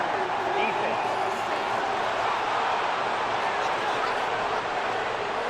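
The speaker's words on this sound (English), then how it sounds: "Well, the crowd doesn't like that." A stadium crowd in the Madden 24 football game gives off a dense, steady roar of disapproving noise, loud and continuous throughout with no clear breaks.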